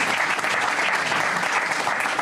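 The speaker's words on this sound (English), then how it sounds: "And let's clap for that." Audience applause at a hospital event announcing a program with graduates joining Mass General, a dense steady wash of many hands clapping throughout, close and loud with no gaps.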